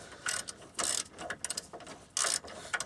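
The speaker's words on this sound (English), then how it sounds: "we're tightening up our caliper bolts now" Rapid ratchet clicks in short bursts as a hand ratchet tightens brake caliper bolts on a car, close and fairly quiet, with brief pauses between strokes.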